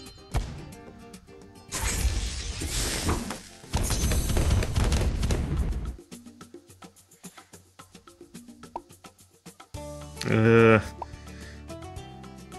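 Sniper shots popping balloons in the Bloons Pop game, including fortified metal balloons: loud bursts of rapid cracking and popping in two dense volleys, then a sharper burst with a ringing tone near the end, over game music.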